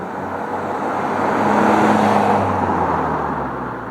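A Range Rover Evoque SD4 diesel drives by, its engine note swelling to a steady rumble and then easing off, with road and tyre noise carrying the sound and no voices.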